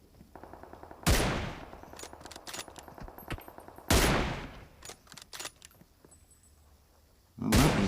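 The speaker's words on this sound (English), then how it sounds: "I'm going to go for it with the M24 here." M24 rifle fire in a video game, with three loud sharp shots spaced a few seconds apart amid quieter clicks and clatter of weapon handling, no talk over them.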